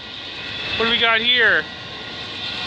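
A freight train's distributed power unit locomotive rolling past, a steady rumble with a brief rising and falling tonal whine, while someone speaks briefly over it.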